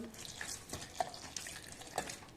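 Half a cup of water poured onto sugar and salt to make a smooth pea paste for koraishutir kochuri, heard as a faint, steady trickle and splash in a quiet kitchen.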